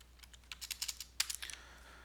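Quick bursts of keystrokes entering price figures on a computer keyboard, a dozen or so crisp close clicks in uneven clusters over quiet background, with no speech.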